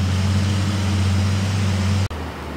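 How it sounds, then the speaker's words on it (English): A bulldozer works in the background near woodland while morels are being scouted, giving a steady, loud, low engine drone that runs almost unbroken, with one brief dropout near the end. "I want to apologize if you can hear the dozer in the background."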